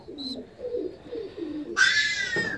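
Young fancy ornamental pigeons giving soft, low murmuring coos close by, with a brief high chirp early and a louder bright squeal toward the end; no one speaks.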